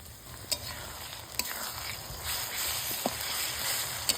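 Garlic, ginger, cumin and dried red chilli paste fry with onion and tomato for a chicken curry, giving a steady close sizzle with occasional sharp pops and stirring scrapes, with no voices.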